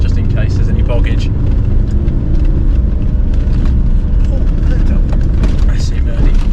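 A Mitsubishi L200 pickup grinds along an off-road test course, its engine droning loud and steady with rough low rumble throughout, people talking over it.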